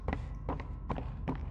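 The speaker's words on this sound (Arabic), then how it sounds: "في هذا صوت خطواتي أنا." Player footsteps sound in the dark setting of the video game Poppy Playtime Chapter 3, with four soft, evenly spaced thuds over a low background hum and no talking.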